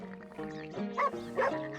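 Dog in the Red Dead Redemption video game making short, close yips and barks, a couple of sharper bursts over a steady tonal background.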